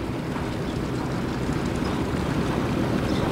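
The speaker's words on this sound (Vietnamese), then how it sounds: "Tiếng máy anh đập lớn yếu xìu ha." Engine of a long wooden cargo boat, over 60 metres, travelling on a river near a suspension bridge: a steady, loud, low rumbling drone with constant water and wind noise and no voices.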